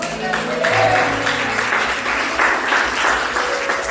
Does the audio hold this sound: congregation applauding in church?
yes